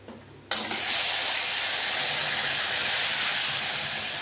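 Onion, garlic and ginger paste with tomato paste hits hot oil with a sudden loud burst of sizzling that settles into a steady hiss, alone without talk.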